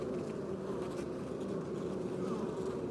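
Honey bees buzz densely around beehives at an apiary, a steady close droning swarm that holds without a break.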